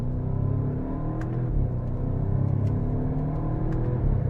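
A 2018 Audi S3 with an S-Tronic dual-clutch gearbox accelerating hard, its engine droning steadily and loud with quick, smooth upshifts barely breaking the continuous rumble, heard from inside the car.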